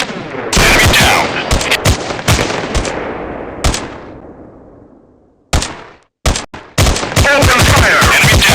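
Gunfire in the mobile FPS shooter War2 Games on an itel A25 Android phone: loud bursts of rapid automatic shots with a few single cracks, a long echoing decay, a brief silence, then more heavy bursts.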